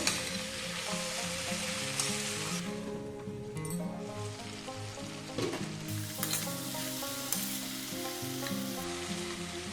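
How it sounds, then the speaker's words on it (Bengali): Onion flower stalks, potatoes and tomato fry in a pan with a loud, continuous crackling sizzle. Stirring scrapes break in now and then, and the sizzle briefly dips before surging back. "আর একটু ভেজে নেব পেঁয়াজ কুলিগুলো আর একটু নরম করে নেব"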